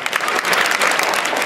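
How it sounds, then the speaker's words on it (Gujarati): An audience claps at a program at a government primary school, giving loud, dense, steady applause from many hands throughout the short stretch. "પણ તાળી કોઈ પાડો એમ."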